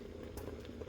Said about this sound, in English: It's not ready yet, but it's boiling.